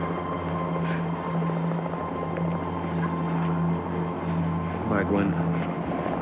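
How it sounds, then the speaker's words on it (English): A helicopter's steady, low rotor drone carries on under strong wind throughout, while people speak over it nearby. "I won't be able to keep the copter steady much longer"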